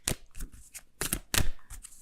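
Abundance tarot cards are shuffled in a few quick, crisp riffling bursts, close and fairly soft, with short gaps between them and no talking.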